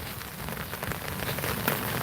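Steady rain falling in Phulbari, Kurigram, a dense continuous patter of drops on surfaces, close and even throughout with no voices.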